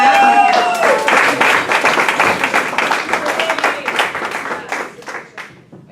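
A family cheering section applauding and cheering at a school board meeting, a dense burst of clapping with whoops that gradually thins and fades over several seconds.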